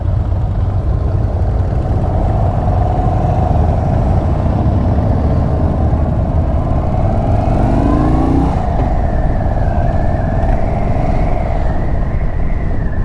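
Indian Chief Bobber Darkhorse motorcycle on a test ride along a service road: a loud, steady engine drone runs throughout, with a short swell in revs midway, heard up close with no talking.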